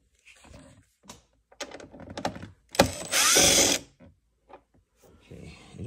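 A power drill whirs in one loud burst of about a second during a Polaris Ranger overhead speaker console install with a steel roof, amid clicks, handling noises and someone talking.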